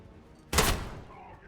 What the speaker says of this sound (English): Shooting through this wall.